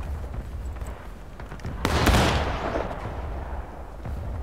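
Musket fire rings out on a War of Rights battlefield as one loud nearby shot cracks and booms through a rumbling bed of distant gunfire that continues throughout.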